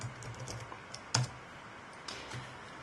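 Keys on a computer keyboard are tapped in an irregular, quiet sequence as a username and password are entered, with soft clicks and one sharper keystroke near the middle.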